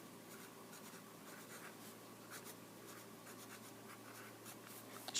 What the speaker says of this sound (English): let's go ahead and write down our exemplars